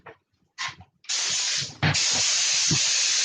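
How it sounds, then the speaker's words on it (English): A steamer hisses loudly and continuously at close range after a couple of short thumps, with one brief sharper burst partway through. "This thing is still steaming."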